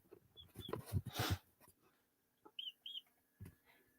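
Chickens cluck and chatter close by in a backyard flock, scattered short calls and a few sharp higher squawks with quiet gaps between them, and no talking.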